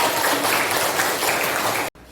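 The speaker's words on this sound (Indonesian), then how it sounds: "Beri tepuk tangan sekali lagi." A high school class in an Indonesian-language lesson claps steadily and densely for about two seconds before it cuts off abruptly.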